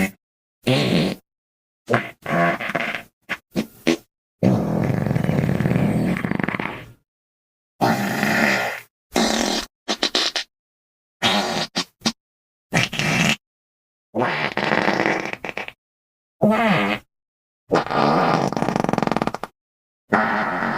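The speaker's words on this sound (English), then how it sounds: "See, this is how the farting and pooping sound effect sounds like." Farting and pooping sound effect: a long run of loud, wet, rumbling bursts of varying length, some drawn out for over a second, separated by short silences, with no talking.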